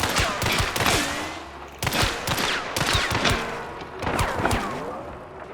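Dolch firing FMJ ammunition in a video game, loud rapid bursts of gunfire in three volleys with ringing tails between them, close and dense, no voices.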